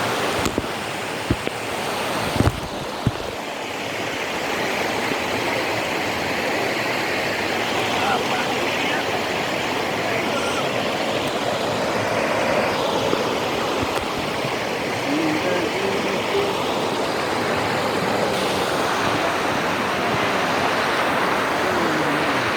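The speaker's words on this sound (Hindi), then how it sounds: "नदी नाला" A river stream in the rainy season rushes in a loud, unbroken roar of flowing water, steady throughout with a few short knocks near the start.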